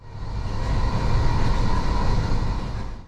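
A CrossCountry passenger train runs on its rails near Leeds, heard from inside a carriage as a loud, steady rolling rumble and hum that swells slightly and then eases, with no voices.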